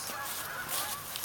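Ducks on the water honking, a brief burst of overlapping nasal calls heard from a short distance, loud for a moment with no talking.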